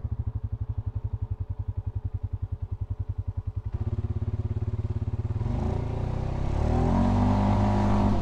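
A 2023 Polaris Sportsman 570 Ride Command ATV engine while riding, a steady rhythmic thrum that swells into a louder rising rev partway through, close up with no talk.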